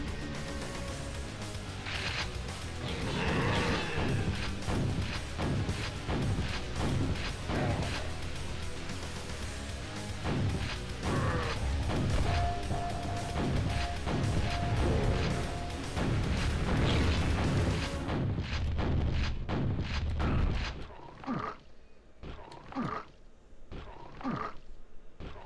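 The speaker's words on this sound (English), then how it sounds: "I'm just using my shotgun here." Shotgun blasts in the PC shooter Quake, a string of sharp booming shots repeating over a steady game soundtrack, continuing loud and close throughout.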